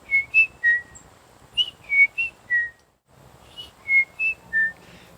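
A person whistles an imitation of a chickadee's piping song: two phrases of short clear pure notes, each descending in steps, separated by a brief pause, close and distinct over faint background.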